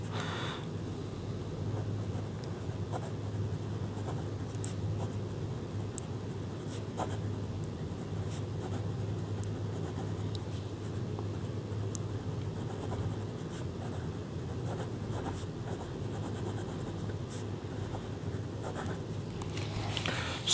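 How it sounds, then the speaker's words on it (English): A fountain pen with a scratchy extra-fine nib writes on paper, giving a close, continuous dry scratching with short strokes and pauses, steady throughout, alone in a quiet room. "let me show you the dryness test. So this is a kind of scratchy nib."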